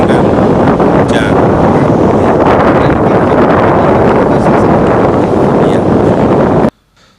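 Strong wind roars at the Bali coast in cold, rainy weather, a loud continuous rush buffeting the microphone that cuts off abruptly near the end.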